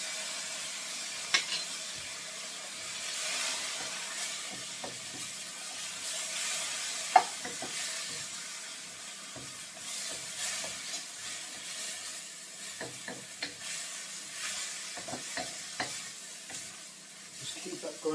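Garlic and ginger frying with browned onions in a pan for a lamb gosht, a soft steady sizzle and hiss with occasional clicks and stirring taps, close but fairly quiet.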